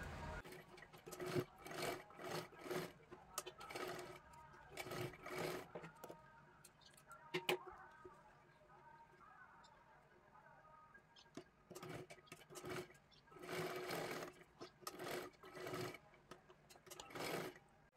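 A sewing machine stitches a blouse in repeated bursts of fast, close-up rattling, with short pauses and quieter stretches between the runs of stitching.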